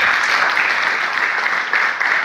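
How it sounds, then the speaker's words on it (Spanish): A church audience bursts into steady, loud applause, a dense wash of clapping that carries on evenly without any talk over it. "Dale un aplauso al Señor."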